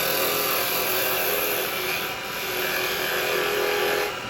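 A square carbide chisel cuts a natural-edge wooden bowl turned from firewood on a lathe, giving a steady, loud, broadband scraping hiss that runs unbroken for the whole stretch with no voices.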